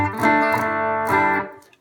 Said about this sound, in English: Here's the sound of the guitar, clean through the HX Stomp.